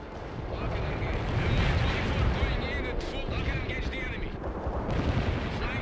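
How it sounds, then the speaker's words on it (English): Continuous artillery barrage in World in Conflict, dense booming and rumbling fire layered with crackling blasts, steady and loud throughout, with a voice speaking over the battle. "seek out and destroy the NATO artillery before they cause too much damage"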